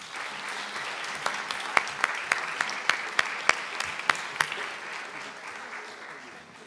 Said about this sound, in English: So let's all give this amazing panel a fantastic round of applause.